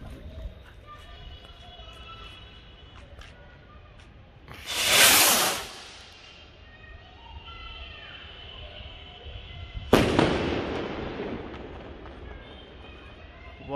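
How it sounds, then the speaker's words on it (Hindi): A Standard Fireworks sky shot rocket fires during Diwali cracker testing, giving a loud rushing whoosh at launch and, about five seconds later, a sharp crackling burst that fades out, with faint background voices. "ये था स्काई शॉट वाला रॉकेट।"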